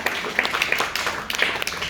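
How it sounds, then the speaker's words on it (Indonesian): Audience applause for the musicians at a church anniversary worship service, a steady, dense patter of many hands clapping, moderately loud and sustained, with faint voices mixed in. "Tepuk tangan buat mereka."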